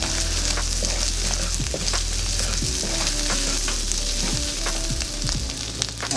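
Barbecue pork frying in a wok for Yangzhou fried rice, a steady loud sizzle with repeated scraping and clanking of a spatula stirring throughout, no voices.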